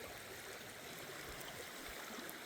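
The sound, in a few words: high creek water flowing along the bank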